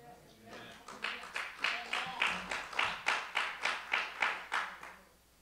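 Congregation clapping hands in church, a steady rhythmic series of about a dozen sharp claps at a regular beat, moderately close, with faint voices underneath.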